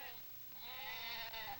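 Sheep on a farm in 1973 Wisconsin or Hungary, one giving a short wavering bleat that rises partway through, fairly close, over a quiet outdoor background.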